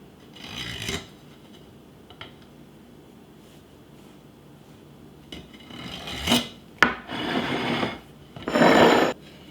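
Knife slicing through a fall dessert cake dusted with powdered sugar, heard as short raspy scraping strokes, the loudest and longest near the end, close and with no talk.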